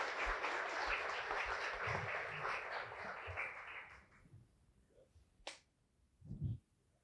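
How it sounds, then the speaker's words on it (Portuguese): Audience applause in a Brazilian tech-event auditorium, a dense wash of clapping for the first four seconds that then thins out, leaving a few scattered claps and snaps and a brief low voice near the end. "Uma salva de palmas para ele."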